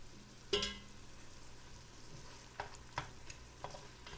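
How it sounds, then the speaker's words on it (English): A spoon stirring pork stew in a cooking pot, one sharp scrape followed by a few quieter clinks and stirs over a faint steady sizzle, close up with no talking. "And we'll stir this in."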